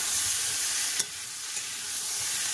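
A vegetable curry is stirred and sautéed in a pan, giving a continuous close sizzle with a couple of soft scrapes of the spoon.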